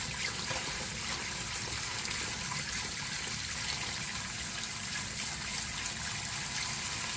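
Steady running water pouring from a tap while a crab is scrubbed clean with a toothbrush, a constant even gush with no voices.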